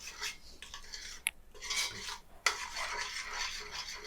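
A spoon stirs egusi seeds frying in a pot for Nigerian egusi soup: continuous gritty scraping and rubbing, with a couple of sharp metallic clinks against the pot, close and fairly loud.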